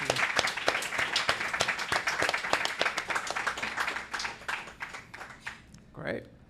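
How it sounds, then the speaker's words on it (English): A live podcast audience at a gaming founders event claps in dense, steady applause for about six seconds, fading toward the end, with a voice rising over it just before it stops. "Well, let's give these guys a round of applause."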